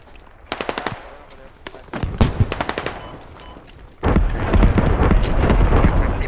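Bursts of automatic rifle fire crackle in the Squad video game, with rapid strings of sharp shots and louder nearby volleys, then a dense roar of continuous gunfire and explosions.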